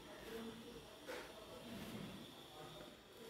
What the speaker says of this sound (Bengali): তা আলু আমার ভাজা চলছে।